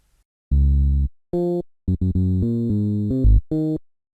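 A synthesized bass line programmed for a Seben beat in FL Studio, deep and booming, with a string of punchy notes of varying length in a bouncy rhythm, loud and dry with nothing else playing.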